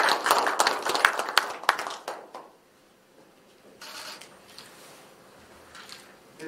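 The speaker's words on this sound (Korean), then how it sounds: "박수 부탁드립니다." A small group at a council meeting claps briefly in a scattered burst that fades after a couple of seconds, followed by quiet room noise and faint shuffling.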